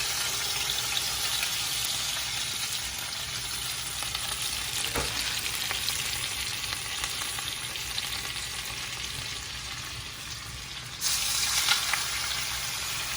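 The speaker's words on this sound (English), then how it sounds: "And just let that fry." Salmon fillet searing skin side down in a hot pan, a steady close broadband sizzle and crackle of frying oil that holds even throughout and grows a little louder near the end, with no talking.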